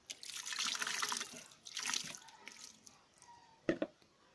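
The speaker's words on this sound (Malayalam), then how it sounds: "നമ്മൾ ശരിക്കും ഇതിൻ്റെ അകത്തേക്ക് വെള്ളം ഒഴിച്ച് കൊടുക്കാം." Water poured into a tyre during cleaning, a close pouring and splashing wash in two bursts that then fades to faint trickles, ending with a couple of sharp knocks.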